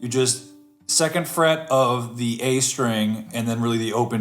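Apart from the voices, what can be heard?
No everyday noises stand out.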